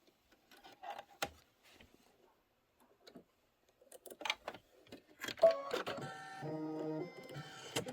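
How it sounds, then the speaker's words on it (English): An embroidery machine stitching a geometric quilting design starts with scattered soft clicks and ticks in a quiet room, then settles into a steady, close whirring hum for the last few seconds. "it's going to do that absolutely adorable geometric quilting design that I'm loving"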